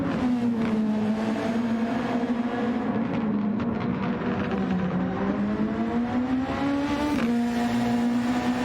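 A Formula 1 car in a racing video game at the Spielberg circuit, its high engine whine holding loud and continuous while the pitch rises and dips with gear changes.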